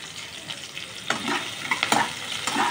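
Onions fry in a pan with a steady sizzle while being stirred, with a few scraping bursts from a spoon, fairly close.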